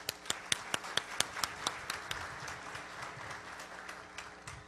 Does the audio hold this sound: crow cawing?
no